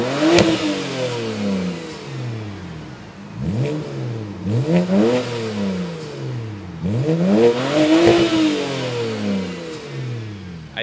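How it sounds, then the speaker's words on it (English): A BMW 335i engine revs repeatedly, each blip rising sharply in pitch and falling back, several close, loud sweeps in an uneven rhythm with no talk. "I definitely like how this car sounds too."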